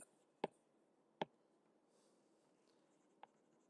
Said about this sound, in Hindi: यहां लिख देता हूं मैं